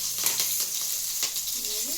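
Chilli-garlic paste fries in oil in a pan, giving a continuous soft hiss and sizzle with a few faint stirring scrapes, quiet and steady throughout.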